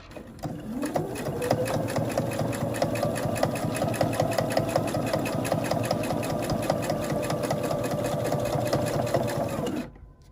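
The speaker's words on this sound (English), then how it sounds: "we are going to stitch along this edge all the way down" A sewing machine stitches along the edge of a fabric Christmas ornament, starting up and running at a steady rapid clatter for about nine seconds before stopping, close and clear.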